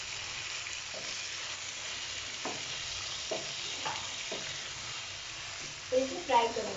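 Egg jalfrezi masala fries with yogurt in a pan, a soft steady sizzle with a few scattered stirring knocks and clinks near the end, while a voice talks faintly.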